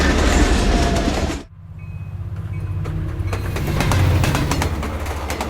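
A passenger train rolls through the Canadian Rockies with a loud, continuous rumble and rhythmic clickety-clack of the wheels. The sound drops abruptly for a moment, then the rolling noise builds back up and continues steadily.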